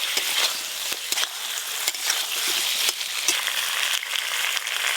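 Fried vegetables stirred in a pan with cumin, green chillies and radhuni paste plus a little water, giving a steady close sizzle with scattered scraping strokes of the spoon throughout.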